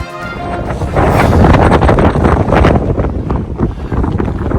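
Strong, gusty wind sweeps across a hiking trail and buffets the microphone with a loud, roaring rush that rises and falls in waves, and no one speaks.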